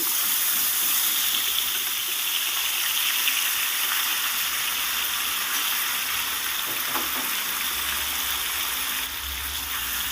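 Long-cut potato strips frying in hot oil with black cumin seeds in a pan, a loud, continuous close-up sizzle and crackle that holds steady throughout with only faint stirring beneath.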